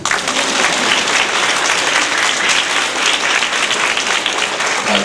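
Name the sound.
applause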